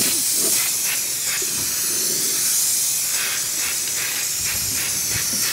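Spray adhesive hisses onto foam inside a 1983 Johnson outboard motor, a loud continuous close-up hiss with short pulsing bursts throughout and no talk.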